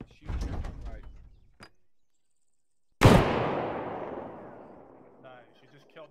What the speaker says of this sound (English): I just want to try firing a burst here.